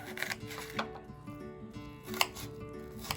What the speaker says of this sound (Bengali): ছোট করে কুচি করে নেব প্রথমে পেঁয়াজটাকে